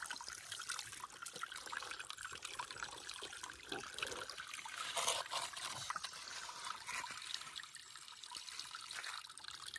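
Water runs and trickles steadily while garnet-bearing material is washed off, a continuous quiet splashing flow with small fluctuations and no speech.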